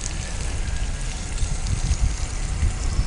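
Water pours steadily into a cooking pan for semolina upma, a continuous close gushing splash lasting a few seconds with no speech over it.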